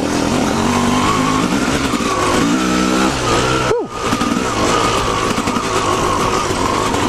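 A 2-stroke Yamaha dirt bike engine buzzes loudly and continuously while riding through wet woodland tracks, its pitch rising and falling with throttle, with one brief sharp dip and recovery midway.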